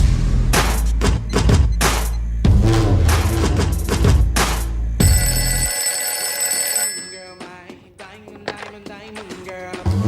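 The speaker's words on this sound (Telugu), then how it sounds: "daddy phone ring daddy" An electronic phone ringtone sounds with steady high tones, following loud rhythmic thumping music; faint background sounds continue after the ringing stops.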